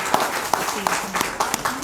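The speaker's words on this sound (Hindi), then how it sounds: "तालियों से स्वागत करें" Audience applause welcoming a guest at a felicitation event at BJP headquarters in Jammu, steady clapping with sharp individual claps, under a voice speaking over a loudspeaker.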